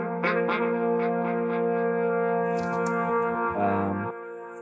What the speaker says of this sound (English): the flute sound and also this kind of brass that I run through the same delay